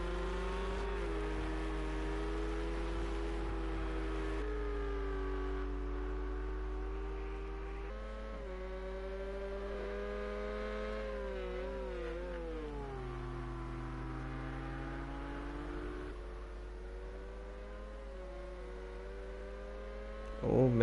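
Ford GT race cars in Project Cars racing at Watkins Glen, with steady engine drones shifting pitch up and down as they run the straights, a continuous loud whine with no talk over it.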